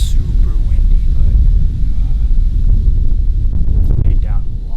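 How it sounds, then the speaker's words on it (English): Strong wind buffets the microphone outdoors at a tree line during a deer hunt, a constant low roaring rumble throughout with faint rustling and a few brief higher sounds. "It's still super windy"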